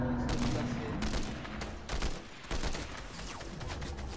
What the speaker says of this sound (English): We're being shot at by players.